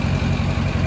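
A built Duramax diesel truck with an S366 turbo, new injectors, cold air intake, 5-inch exhaust and tune idles close by, a loud, steady rumbling throb with a faint high turbo whine above it.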